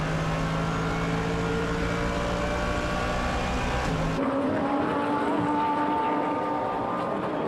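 GT1 race cars at Donington Park circuit roar past in a dense, continuous engine drone, with a shifting pitch as a car passes, loud and sustained.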